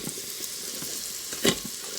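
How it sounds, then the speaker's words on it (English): Garlic and onions sauté in an Instant Pot, a soft continuous sizzle with a few scraping stir sounds and one brighter clatter midway. "So you just want to let your garlic saute for about 30 seconds, just until it's fragrant."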